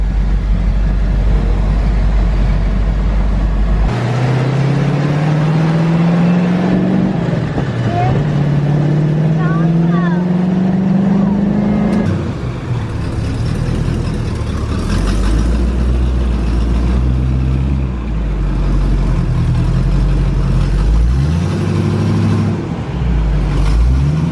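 A 1969 Pontiac Firebird cruising on the road, its engine droning low and steady, pitch climbing through gears with short dips between shifts, heard continuously and close while a person talks over it.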